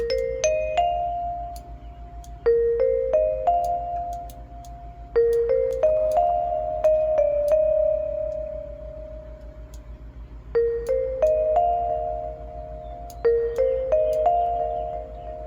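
Virtual vibraphone playing a gentle melodic phrase of mallet notes in small clusters, drenched in reverb and echo so each tone rings and overlaps with the next, steady and unaccompanied with no voices.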